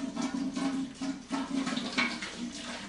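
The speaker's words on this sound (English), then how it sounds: "And we're going to add our water." Water pouring into a large tamale steamer pot, a continuous splashing, gurgling rush that surges in uneven waves for a few seconds, fairly close and moderately quiet.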